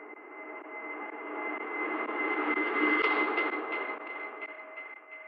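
A broad airy synth swell rises steadily in loudness and brightness over a few seconds, with a sustained tonal hum running through it, then eases back slightly.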